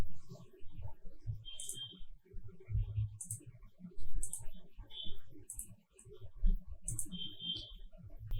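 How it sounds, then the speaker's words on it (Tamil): Computer keyboard typing while filling in a company's details on the NSDL online portal, heard as soft, irregular clicks and taps mixed with low-level room noise, with sharper higher clicks appearing every second or so. "அந்த நிறுவனம் தொடங்கப்பட்ட டேட்டு இந்த இடத்துல டைப் பண்ணிக்கிறேன்"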